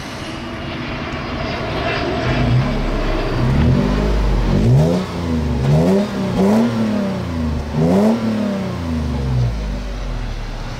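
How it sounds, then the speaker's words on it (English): A 2020 Toyota 4Runner TRD Pro engine revs repeatedly through a cat-back exhaust, each rise and fall swelling loud and close, with a rumbling exhaust note and no talking. "going to be giving us an exhaust demo"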